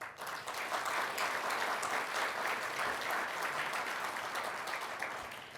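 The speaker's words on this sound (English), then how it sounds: "big round of applause" A big round of applause at a formal signing ceremony for green hydrogen project agreements in Oman, with dense, even clapping from a large audience that carries steadily throughout.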